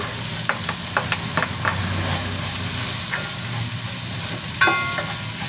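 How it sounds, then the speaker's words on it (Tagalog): Sliced ginger and garlic sauté in hot cooking oil in a pan, giving a steady close sizzle with occasional scraping stirs and crackles. "Igigisa na po natin yung ating ginayat na luya. Sabay na rin po natin yung bawang."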